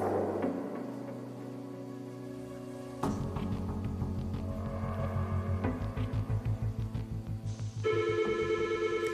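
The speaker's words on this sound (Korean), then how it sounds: "전화 온다." A telephone ringtone sounds on a Korean dating reality show filmed in Bali, with bright rhythmic ringing pulses rising over a steady musical bed and growing more insistent toward the end.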